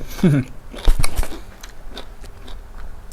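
Close chewing and biting of a Thai bamboo shoot and pork belly pot dish, a few crunchy bites at the start followed by softer mastication, with a brief voice early on.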